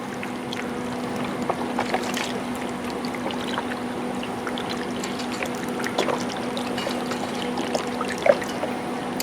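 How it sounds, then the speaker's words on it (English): Beef stock pours from a container into a pot of smoked beef tip stew, a steady liquid trickle with a few small splashes over a constant low background hum. "We'll pour this beef stock in there."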